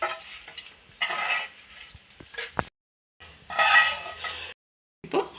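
Ingredients dry-roasting in a pan for onion chutney, with bursts of dry rattling and scraping as they are stirred and tossed, close and moderately loud, broken by short pauses.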